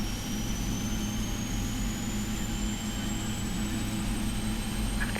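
The engine of a PMDG 777F freighter in the Prepar3D flight simulator runs in a steady, loud jet roar with a rising high whine as it spools up, and no one speaks.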